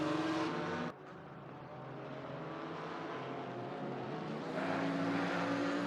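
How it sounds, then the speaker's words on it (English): BMW GT4 race car in Assetto Corsa Competizione at Misano, engine droning steadily as it pulls down the straight, with a sudden cut early on followed by a sustained, slightly rising roar. "You can just see that BMW streaming away down the straight."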